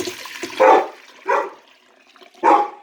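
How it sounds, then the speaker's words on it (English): Dirty dishwater scooped with a pot and poured into another pot, three separate splashy sloshes spaced about a second apart, close and fairly loud with quiet gaps between. "I'm using a dirty pot to scoop out the dirty water"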